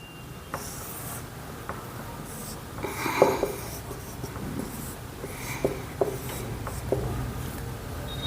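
A pen or pencil scratches and rubs across paper while drawing a rough sketch of the heart, with soft continuous strokes and occasional small taps, faint and close.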